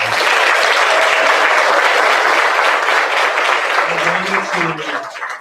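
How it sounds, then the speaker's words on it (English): An audience at the 2026 California Green Ribbon Schools recognition ceremony applauds students with dense, steady clapping that fills the room, then thins out as a voice comes in near the end. "Let's give those students a round of applause."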